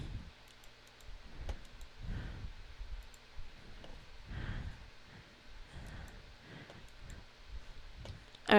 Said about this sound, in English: I saw there's an achievement for clicking on the boxes.